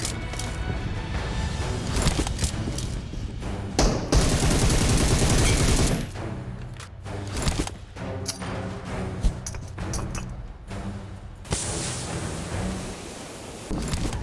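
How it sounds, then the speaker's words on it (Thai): Gunfire and fighting in the mobile battle royale game PUBG Mobile: loud, sustained bursts of automatic weapon fire with sharp cracks and impacts, pausing only briefly. "เสียงปืนและการประทะ จะเกิดขึ้นตลอดทั้งเกม"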